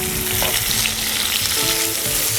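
Fresh tomatoes sizzle loudly in a hot pan for a tomato pasta, with a spoon scraping and stirring through the steady frying hiss.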